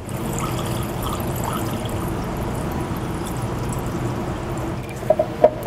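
Kombucha poured into bottles at home, a steady continuous trickle and splash of liquid running for several seconds, with a few sharper clinks and drips near the end.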